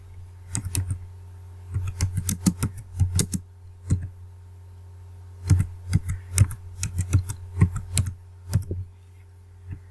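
Fingers type an Instagram caption on a computer keyboard in close, crisp clusters of key clicks, pausing between bursts, with no talking.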